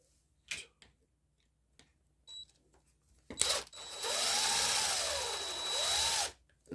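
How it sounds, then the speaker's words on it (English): An old DeWalt impact driver whirs in a single sustained run of about two and a half seconds with a wavering pitch, after a few short clicks and taps in a quiet workshop. "this time I'm using my DeWalt little impact here"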